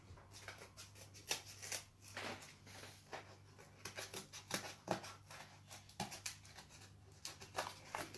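Scissors snip through colored cardboard in quick, close, quiet cuts, each crisp snip followed by a faint rustle of the card being turned.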